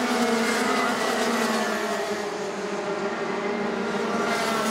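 A pack of Senior MAX racing karts streams down the home straight during qualifying at the Mizunami MAX series, their engines merging into a steady, moderately distant high-pitched whine that swells and fades slightly.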